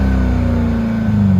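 A 2021 Dodge Durango Hellcat's supercharged engine revs close by, a loud, deep, steady engine roar that holds high and then eases slightly in pitch.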